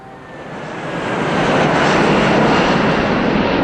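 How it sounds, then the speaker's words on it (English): An Airbus airliner flying low over a backyard near the end of a runway, its engine roar swelling quickly to a loud, broad, sustained rush right overhead. "Airbus, Brisbane via Sydney."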